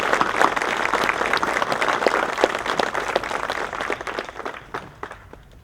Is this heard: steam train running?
no